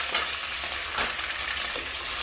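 Leeks and onions fry in hot oil in a pan, a steady close hissing sizzle with light stirring scrapes, brief and without talking.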